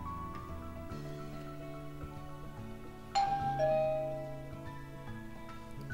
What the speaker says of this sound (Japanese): やがて10分もしないうちに玄関のチャイムが鳴った。